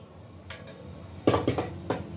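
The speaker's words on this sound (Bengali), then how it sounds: "কড়াই বসিয়েছি" Several sharp metallic clanks and thuds as a wok is set down and shifted on a stove, close and fairly loud.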